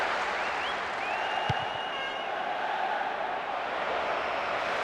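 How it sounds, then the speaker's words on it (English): Steady roar of a cheering stadium crowd in the football video game PES 2009 on PS2, loud and continuous with a faint whistle-like tone drifting above it. "I have to say the crowd is adding to this as a spectacle. The noise they're making is terrific"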